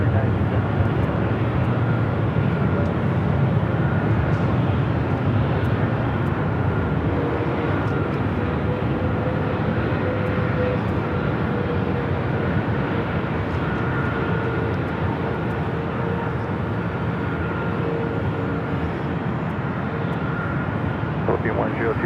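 A heavy United Boeing 777 on short final to runway 24 right at Los Angeles airport, a loud, steady engine roar sustained throughout with a faint tonal whine above it.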